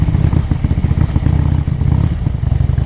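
A motorcycle engine in poor running condition idles loud and close, with a rough, uneven chugging and rattling pulse throughout.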